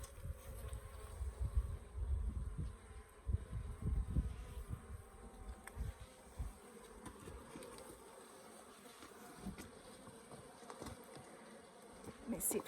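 Africanized hybrid honey bees drone steadily around an open hive during an inspection in southern Arizona, a dense continuous buzz with brief louder swells as bees pass close, with no talking.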